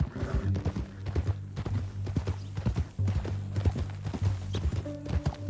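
Horse hooves clip-clop in a steady rhythmic gait in the video game Red Dead Redemption 2, each strike close and distinct over a low ambient hum, with no voices.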